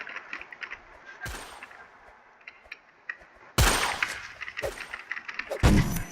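Gunfire in a Roblox murderers versus sheriffs duel game, with sharp in-game shots and bursts cracking out at irregular intervals, several loud blasts standing out over quieter game noise.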